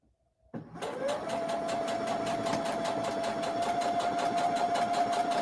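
A sewing machine stitching quilt block pieces together starts up after a moment of silence and runs at a steady, fairly slow pace with a constant motor hum and rapid, regular needle clatter, close and alone.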